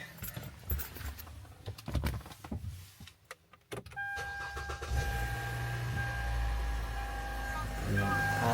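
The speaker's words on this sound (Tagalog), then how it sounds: "Tayo ay magpapainit muna guys ng ano, ng sasakyan natin, no?" A car in freezing weather, with keys jangling and clicks, then the engine starting and settling into a steady, loud idle as it warms up.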